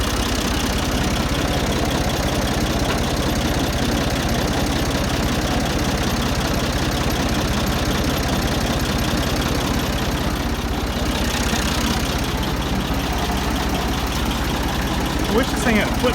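A Ford 2000 tractor engine runs loud and close, a steady rapid chugging drone that continues unbroken with no pauses.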